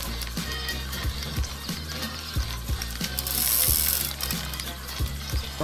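Fishing reel ratchet in the Euro Fishing game, clicking steadily and mechanically while a fish is reeled in, a close rapid gear-like rattle with rhythmic louder knocks and a faint watery wash.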